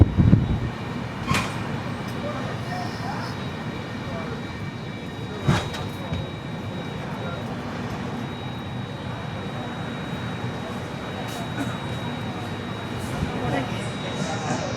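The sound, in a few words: train arriving at Ongole station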